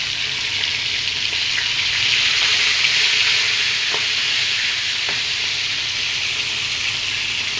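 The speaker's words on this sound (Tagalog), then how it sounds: "Maliliit na lapu-lapu, piprito tayo." Steady, crackling sizzle of small grouper frying in hot oil, continuous and close, with occasional faint clinks.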